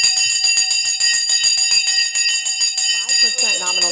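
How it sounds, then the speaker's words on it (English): A bell rung to mark a trading session, its sustained metallic ring carrying across the whole stretch at steady loudness, layered with bright overtones, while a voice talks over the end. "we ring the bell in 3, 2, 1"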